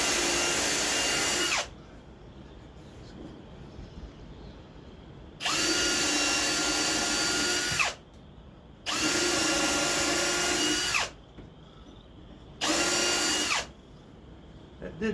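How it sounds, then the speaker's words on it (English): A power drill drives screws into wood during a woodworking project, in three loud, close bursts of whirring motor noise separated by quiet pauses, each burst lasting about two seconds. "I'm gonna get these screws in first"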